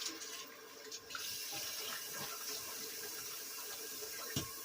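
Cold tap water runs over shrimp in a kitchen, a faint, steady splashing stream that continues throughout.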